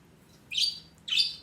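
Two sharp, high bird chirps ring out in quick succession, close by and loud against a quiet background.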